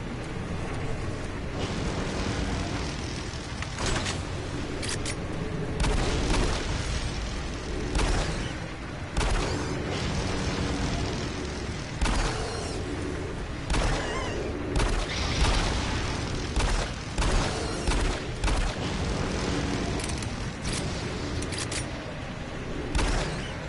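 Gunfire and booming impacts from a video game fill the mix without a break, a loud busy stretch of repeated shots and blasts as a handgun is fired at an enemy during a tense fight.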